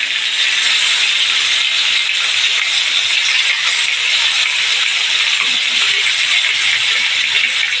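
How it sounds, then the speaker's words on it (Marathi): Stuffed tomatoes frying in a pan, a steady, loud, even sizzle that holds without a break throughout, with no talking over it. "हे बघा आता आपलं हे जवळजवळ फ्राय होत आले सुंदरपैकी सुंदर झालेत बघा फ्राय"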